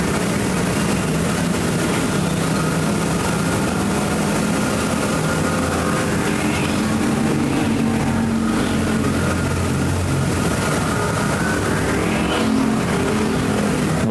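Factory stock race cars roar around Perris Auto Speedway, a dirt oval, in a close pack, their engines droning and rising and falling continuously and loudly as they pass and chase through the turns, with no talk.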